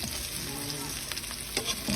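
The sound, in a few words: milkfish and pork belly sautéing in a pan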